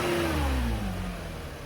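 Car engine revving on a sharp throttle snap as the throttle blade opens, a loud rising-then-falling whine that winds back down toward idle, close by and without talk.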